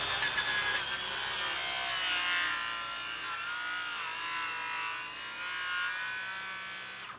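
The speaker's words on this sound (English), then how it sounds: "After getting the final markings for the edges and openings, KP trimmed up with a circular and handsaw." Power and hand sawing through wood while trimming the edges and openings of a wooden boat's main mast: a continuous, bright rasping cut that holds steady for several seconds, close and alone with no talk.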